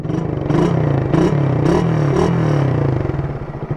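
Suzuki Raider 150 carbureted motorcycle with a silver canister exhaust running close by, a rough pulsing engine note with a few short throttle blips over a steady low rumble.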